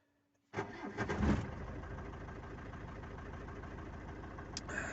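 A pre-1999 Ford Transit van's engine cranks and catches after priming the fuel pump, starting abruptly from silence with a loud burst, then settling into a steady rough idle, close by with no talking.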